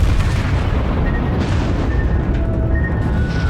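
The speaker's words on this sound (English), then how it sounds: "Torpedoes, dead ahead." Torpedo hits exploding against a ship in World of Warships, heard as a dense, loud, continuous rumbling boom with heavy low-end roar filling the whole stretch, with no talking.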